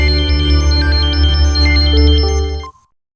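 A phone's melodic electronic ringtone plays loud and close, a repeating tune of bright tones that cuts off abruptly after under three seconds, followed by silence.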